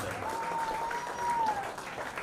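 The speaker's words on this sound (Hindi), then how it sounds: "इस साल का उत्तम वाद्यकार का वसंतोत्सव की जोरदार तालियों के साथ" An award-ceremony crowd at a large annual festival gives a round of applause, a steady, moderately loud wash of clapping with a sustained tone ringing over it.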